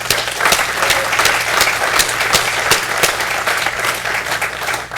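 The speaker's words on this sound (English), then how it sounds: "So could we have a round of applause?" A conference audience claps for sponsors at the close of a panel roundtable, a dense, even burst of applause with crisp individual claps, continuous for several seconds and without speech.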